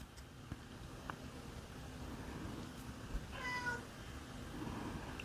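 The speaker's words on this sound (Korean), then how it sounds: "우리 고양이 왜 간식도 줬는데 안 돼" A house cat lets out one drawn-out, pleading meow near the middle, moderately close over a low hum in a quiet indoor room, with a few faint clicks around it.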